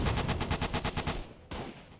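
Enemy machine gun fire in Gate of Hell Ostfront, a fast rhythmic burst of about ten shots lasting over a second, then a single sharp report after a short pause.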